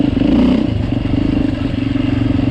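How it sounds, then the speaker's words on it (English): A 2024 Beta 390 Race Edition motorcycle engine runs steadily up close on a wet winter trail, a loud continuous rumble with a slight swell in the first half-second. "That's the engine."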